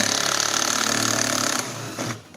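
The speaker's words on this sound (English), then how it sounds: "Now with a 10mm socket," A 10mm socket wrench on a car door handle bolt makes a rapid, rattling run of clicks close by, then slows and fades into a couple of softer knocks.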